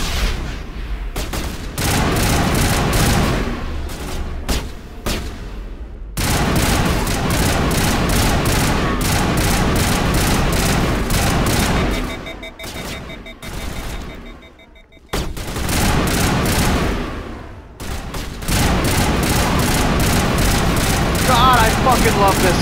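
Heavy, sustained gunfire bursts from the Mass Effect video game, loud and continuous, broken by a few brief pauses, with a player talking over the shooting at times.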